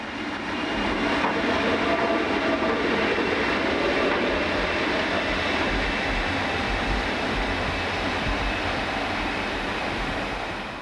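A train climbing a steep banking incline, with a continuous loud rumble of wheels and engine that swells in and fades slightly, and soft rhythmic clatter throughout.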